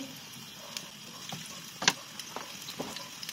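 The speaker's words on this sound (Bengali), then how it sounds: "তেল দিয়ে দিলাম, গরম হতে থাকুক। পেঁয়াজ কুচি" Chopped onion fries in hot oil with a faint, low sizzle and a few soft crackles and clicks scattered through it, quiet and close.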